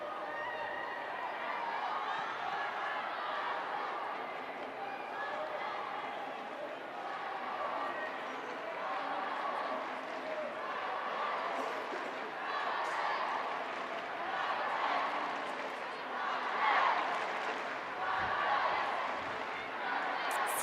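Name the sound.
home crowd cheering at women's football match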